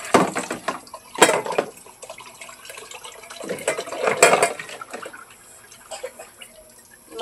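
Water runs from a tap while hands are washed, an uneven splashing and trickling flow that swells and fades in bursts, close by and without talk.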